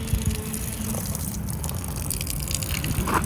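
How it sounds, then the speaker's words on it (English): Water gushes steadily out of an RV water line in a continuous rushing, splashing stream, loud and close, with no talk. "See it pouring out?"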